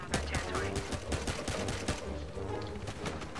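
Gunfire in the Battlefield video game, likely shotgun blasts among sharp repeated shots, loud and dense over a busy battle bed with voices under it.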